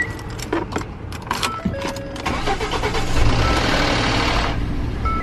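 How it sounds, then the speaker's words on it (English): A Ford F-150 pickup starts up badly: keys jangle and clicks come first, then the engine cranks and catches into a rough, loud idle that holds for a couple of seconds, close by with no talk. "that's not a good way to start up a car"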